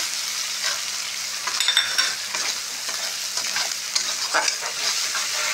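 Raisins are tossed into a pan of capsicum masala filling, with a steady close sizzle of frying and repeated scraping, stirring strokes of a spoon throughout.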